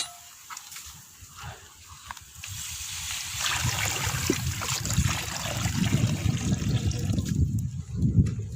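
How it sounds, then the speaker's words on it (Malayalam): Water pours into a cooking pot of fried masala, starting with a few light splashes and clinks, then a steady, close liquid rush and gurgle that lasts several seconds with no voices. "ഇതിനകത്തേക്ക് നമുക്ക് ഇനി വെള്ളം ഒഴിച്ചു കൊടുക്കാം"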